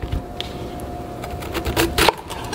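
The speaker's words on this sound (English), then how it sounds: "The first thing I'm going to do is cut the core out." A knife cuts the core out of a quarter cabbage with a scatter of sharp, close clicks and thuds against the board, growing busier toward the end.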